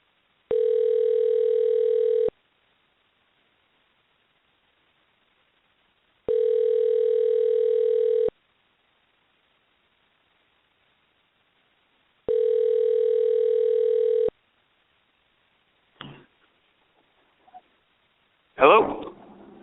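Telephone dial tone during a call to a radio show guest: three steady two-second tones separated by silences, loud and clean, followed by brief clicks and line noise as the call connects.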